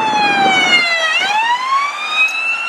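Siren from a toy police patrol car: a loud, continuous electronic wail whose pitch dips and rises again, with no talking.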